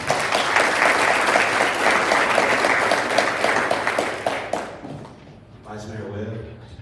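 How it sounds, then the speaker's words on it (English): An audience at a city board of directors meeting applauds the city attorney: steady, fairly close clapping for about four and a half seconds that fades out, after which a voice begins speaking. "Another round of applause for City Attorney Bob."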